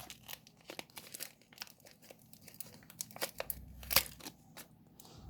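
A crinkly plastic Toca Life World toy packet is cut open and handled, giving close, steady crinkling and tearing rustles with a sharper snip near the end.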